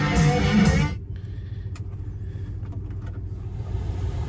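A 1970 Chevrolet Chevelle Malibu V8 heard from inside while driving: a loud rev for the first second, then a steady low engine rumble with faint cabin clicks.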